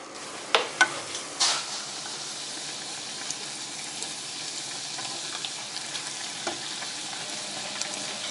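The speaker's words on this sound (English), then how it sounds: "So I'm just heating the oil now, ready to fry." Steady low crackle of oil heating in a pan for frying doughnuts, with a few sharp clinks and a brief clatter near the start, no talking.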